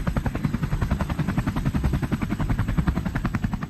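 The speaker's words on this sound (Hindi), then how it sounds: "करीब 2 बजे वहां एक लामा हेलीकॉप्टर उड़ता हुआ आया।" A Lama helicopter flies low overhead during the 1999 Kargil conflict, its rotor chopping in a steady rapid loud pulse that holds throughout, with no voices.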